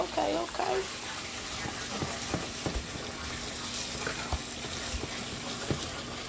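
Curry chicken cooking in a pot, with soft sizzling and scattered clinks and scrapes of stirring over a low background hum, while voices murmur nearby at the start.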